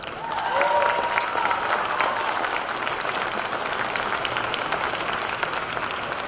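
Sustained applause from an audience at the 2023 NCAA rifle championship award ceremony honoring the National Collegiate Rifle Most Outstanding Performer, a steady dense wash of clapping with faint crowd noise, no speech.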